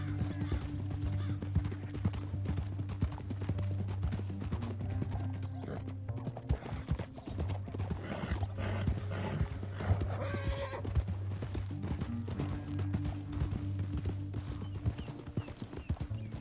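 Horse hooves clip-clop steadily in Red Dead Redemption 2, a continuous rhythmic trot beneath a low droning ambience, with a whinny rising partway through and no talking.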